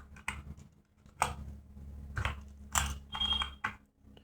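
Quiet keys are pressed on a computer keyboard while someone types C code. Short, uneven bursts of clicking sound close by, with brief pauses between them.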